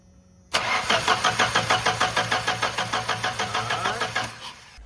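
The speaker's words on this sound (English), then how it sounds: "While the valve cover's off, we're gonna just crank it with no ignition and just make sure nothing spits out." A Dodge Dakota engine cranks over on the starter with the ignition disabled and the valve cover removed. A steady, rapid chugging rhythm runs for about four seconds, loud and close with no voices, then slows as the cranking stops.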